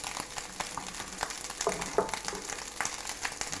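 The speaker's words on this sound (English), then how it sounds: "So quite a hard fry on the rice" Long grain rice spread out and hard-frying in a hot pan, a soft crackling sizzle with a few stirring clunks, close and fairly quiet.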